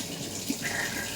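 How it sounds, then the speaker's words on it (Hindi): Water runs steadily from a household tap in a home kitchen or bathroom, a continuous soft gushing hiss that stays fairly faint and even throughout, with no talking over it. "पानी बंद कर पहले।"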